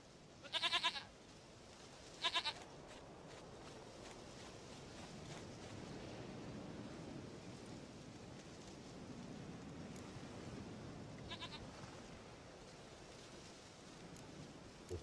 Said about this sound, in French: Une chèvre à moi, gentille,